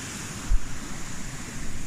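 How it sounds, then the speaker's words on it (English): A waterfall along the West Highland Way gives a constant broad rush of falling water, close and steady, with a short thump near the middle that sounds like wind or the mic being touched. "Lovely waterfall, which is handy for water for my coffee"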